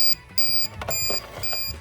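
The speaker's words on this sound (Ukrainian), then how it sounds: "Пищалку, напевно, зараз зламаю." The beeper of a UPS running on AGM batteries sounds during a runtime test, a loud, high, repeating electronic alarm in short regular bursts.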